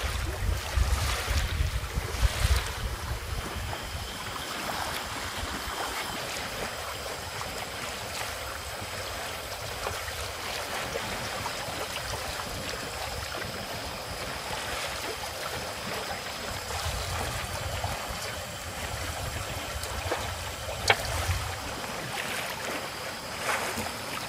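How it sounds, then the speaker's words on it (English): A small trailer sailboat moves through open water at night, with a steady wash of water and wind noise against the hull and low rumbling gusts, continuous and fairly close, no talking. "we're sailing along"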